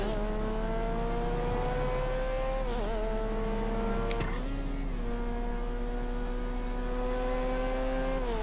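A car engine in GTA V hums at a steady pitch, dipping and rising slightly as the throttle shifts, with a constant low electrical hum underneath.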